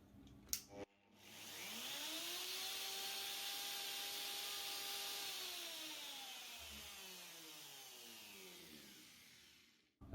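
Router cutting a truss rod channel into guitar wood, a loud sustained whine that spins up, holds steady for several seconds while cutting, then winds down and stops, alone with no talk.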